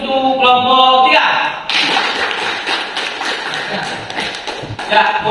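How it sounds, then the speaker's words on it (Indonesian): Audience applause for a student group at a teacher-training class session, a loud, steady crowd clapping that swells in after a brief voice and continues for several seconds. "kita beri aplaus untuk kelompok 3"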